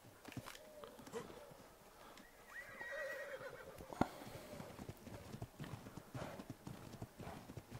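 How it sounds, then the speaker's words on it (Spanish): Horse in the video game Ark neighing with a clear whinny midway while hooves clop in an uneven walking rhythm, fairly faint, with a sharp knock near the end. "Que si cogemos este caballo, nos coronamos."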